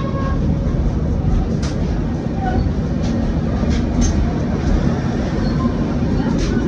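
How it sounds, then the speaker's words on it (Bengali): An express train runs through Kharagpur station without stopping, a dense steady rumble with brief squeals and clanks, heard from on board with faint voices underneath. "এই ট্রেন ঢুকছে খড়গপুর স্টেশন। এখানে স্টপেজ নেই,"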